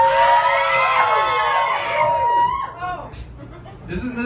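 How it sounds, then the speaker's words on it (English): Bar crowd at a live music show in Seattle yelling and cheering loudly all at once on cue, a dense roar of shouts that fades into scattered voices and chatter. "I want you all to yell as loud as you can."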